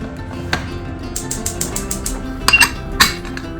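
Metal pot of chickpeas being stirred and its lid set on, a series of close, bright clinks and scrapes with a couple of louder metallic knocks near the end.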